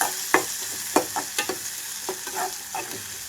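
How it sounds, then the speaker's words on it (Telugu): Onion pieces fry in oil over medium flame for a bitter gourd fry, a soft hiss broken by several distinct scrapes and stirs of a spatula in the pan, close and without speech. "ఇక్కడ నేను ఉల్లిపాయలు పూర్తిగా వేగే వరకు ఇలా ఉంచేస్తున్నాను"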